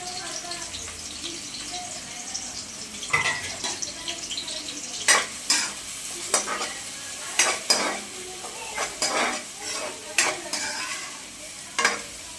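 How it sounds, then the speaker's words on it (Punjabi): Onions frying in hot oil for poha, a constant sizzle broken by irregular, sharp spatula scrapes against the pan, close by, with a person talking at times. "ਤੇਲ ਨੂੰ ਚੰਗੀ ਤਰ੍ਹਾਂ ਗਰਮ ਕਰਕੇ ਪਾ ਲਾਂਗੇ ਪਿਆਜ਼"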